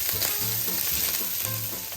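Frozen mussels hit a pan of frying shallots with a steady, close, loud sizzle, punctuated by soft clatter as the shellfish settle and shift, no voices over it.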